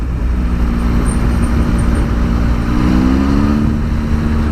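A 2018 Triumph Speed Triple RS motorcycle engine drones steadily while riding, its tone swelling briefly as revs rise, heard close over constant wind and road noise.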